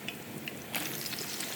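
Small cubes of eggplant, seasoned with salt and spice, drop into hot oil: a faint hiss gives way to a brighter crackling sizzle partway through, close and unbroken, with no talking.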